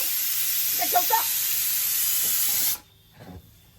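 A pressure cooker hisses out steam in a loud, steady spray, cut off abruptly near the end, with brief voices talking softly over it and after.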